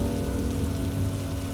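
Steady, heavy rain pours down at night in a continuous dense wash, with a low rumbling undertone that could be distant thunder.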